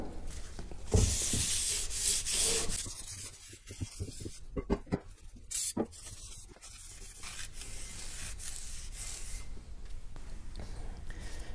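Brake cleaner is sprayed and wiped over a rear brake rotor during brake service on a 2012 Subaru Forester, with a close hissing spray and rubbing scrubbing sounds that stop for a moment midway and then carry on.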